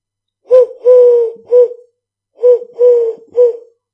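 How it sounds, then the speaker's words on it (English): A wood pigeon coos in two phrases of three soft, hollow notes each, clear and fairly close, with a short pause between phrases. "That's the wood pigeon."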